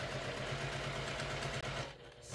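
A sewing machine stitching fabric pieces together, a steady low mechanical whir with a rhythmic pulse that runs continuously before stopping briefly near the end.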